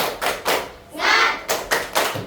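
Children clap out a rhythmic spirit clap (tepuk semangat) in a classroom, a few sharp groups of claps with a short shouted burst between them, close and loud.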